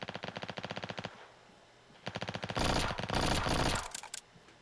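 Rapid machine gun bursts in a VR shooter played on an Oculus Rift S: a fast rattling string of shots, a pause, another burst, then a dense roaring volley, loud and close.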